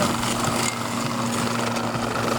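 A 40-year-old vintage lawn mower with a small engine runs steadily nearby, a constant buzzing hum that holds an even pitch without a break.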